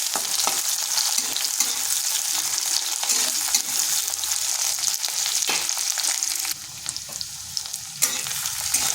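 Whole cumin, chopped garlic and onion fry in oil in a wok, a loud, dense sizzle with occasional stirring scrapes and a brief dip in intensity near the end.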